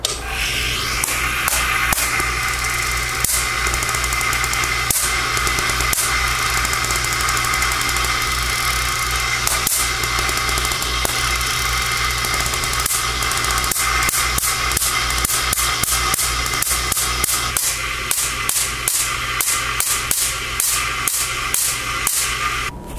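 A running Van de Graaff generator, a loud continuous motorized hum and rumble with dense rapid clicking and crackling ticks throughout.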